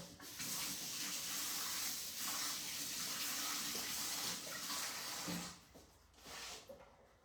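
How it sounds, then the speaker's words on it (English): Water runs steadily into a Thermomix mixing bowl being pre-cleaned with soap, a continuous splashing gush that eases off briefly near the end before a short final surge. "we're going to pop in some soap and water and do a pre-clean together"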